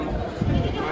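A goat or sheep bleats once briefly at a large goat, sheep and poultry market in Maharashtra, amid crowd noise and murmuring voices.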